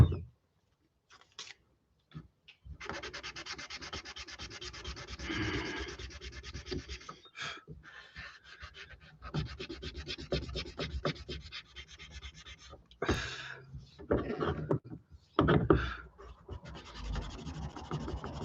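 Hand sanding of a forged blade during a four-hour forging challenge: close, irregular scratchy strokes in bursts separated by brief pauses, fairly quiet with no talk.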